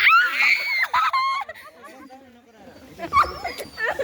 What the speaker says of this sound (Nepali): कुकुरहरू थिए यहाँ होइन, अनि कुकुरहरू आइरहेछन्।